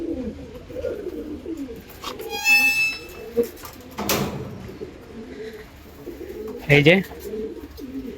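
Pigeons coo in a loft of purebred pigeons, low soft calls running through the background with a brief clear chirp and a door-like knock, while someone speaks briefly.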